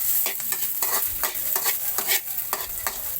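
Onion sautés in hot oil for chicken kinamatisan, a continuous sizzle broken by regular scraping strokes of a utensil stirring the pan, close and clear.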